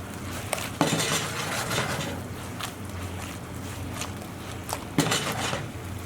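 Chicken pieces and chopped spring onions being tossed and stirred together in a pan for Chinese orange chicken, with a steady sizzle-like background and a few sharp clinks of a utensil against the pan.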